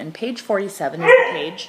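A pet dog yips and barks several times in quick succession, close and loud, breaking in over a person reading out a math textbook page.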